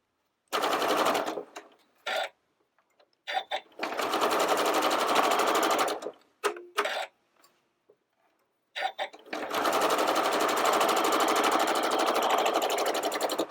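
A sewing machine stitches a quilt block in three bursts of rapid, steady needle chatter, close and fairly loud, separated by short pauses.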